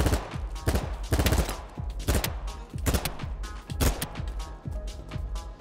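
A gun fires in BattleBit Remastered with a string of sharp, fairly loud shots at roughly even intervals, each followed by a short decaying tail, and no voices.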